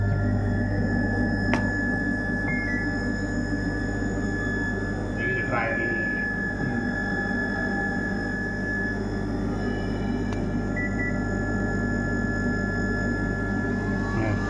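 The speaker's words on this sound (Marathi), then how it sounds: "ड्रायर चालू झाला." A dryer built into an American Standard wall-mounted toilet seat runs with a steady, even mechanical hum and whir that holds unchanged throughout, with a few faint clicks and a soft voice now and then.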